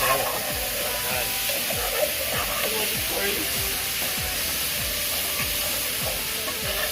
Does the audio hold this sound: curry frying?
yes